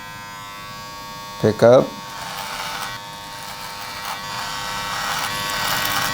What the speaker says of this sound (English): I'm gonna clipper over comb this weight into the one.